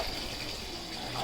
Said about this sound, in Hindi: अब हम यहाँ से पानी भर के बाहर पौधों को पानी देंगे।